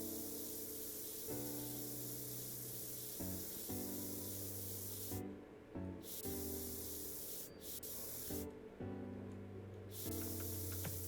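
An airbrush sprays paint in a Model Builder video game, producing a loud, continuous hiss that cuts out briefly a few times, over steady background music.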